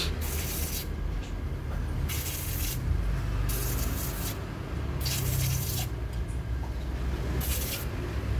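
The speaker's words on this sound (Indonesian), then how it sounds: "Semua kita semprot pakai angin kompresor biar cepat kering" An air compressor nozzle blows air to dry parts of a Honda PCX motorcycle CVT in a repair shop: a steady hiss broken by repeated loud bursts of spraying, close and continuous with no talk.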